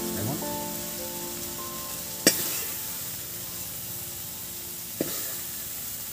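Onion, ginger and garlic fry in a pan with a continuous close sizzle, broken by two sharp clinks of a utensil against the metal.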